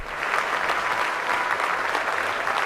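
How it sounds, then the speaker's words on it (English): Steady, loud applause from a large dinner audience at the White House Correspondents' Dinner, a dense even clatter of many hands sustained throughout with no talk over it. "Please clap."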